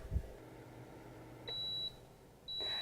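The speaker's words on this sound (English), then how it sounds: "in 10 minutes, the timer will go off" A kitchen timer gives two sustained, high-pitched electronic beeps, the first about half a second long and the second starting a moment later, clear over a quiet background after a brief low thump.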